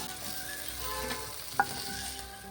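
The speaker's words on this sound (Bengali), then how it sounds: "বেগুনগুলো সবগুলোই ভাজা ভাজা হয়ে এসছে, লাল লাল হয়ে এসছে।" Eggplant slices frying in oil in a wok make a steady, close sizzle with soft stirring, and one brief metallic clink partway through. No voices.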